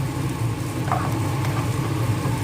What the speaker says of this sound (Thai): นั้นเราก็ผัดนะครับ ผัดให้หอมๆนะครับ เราไม่ต้องผัดให้มันเป็นกระเทียมเจียวนะฮะ